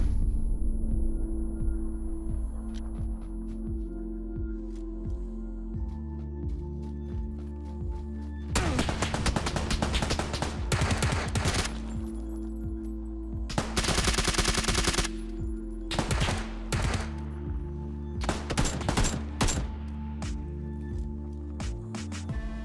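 PUBG gunfire on the Xbox One X cracks out in several loud clusters of rapid automatic shots separated by quieter stretches of ambient game sound, with no voices.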